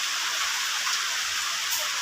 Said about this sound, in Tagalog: inuulan na tayo mga katropa